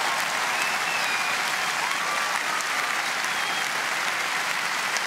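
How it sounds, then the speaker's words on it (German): Steady studio audience applause during the finale of a German TV show, a thick, even wash of clapping that holds at a constant level throughout, with faint whoops or voices rising briefly above it. "Ein Applaus, würde ich sagen."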